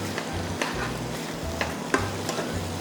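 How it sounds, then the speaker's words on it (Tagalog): Sliced chayote being stirred and tossed in a frying pan, a steady sizzle under repeated scraping strokes of a utensil, close and continuous, with no talking. "Ngayon, mimix mo lang yan. Mimix lang yan."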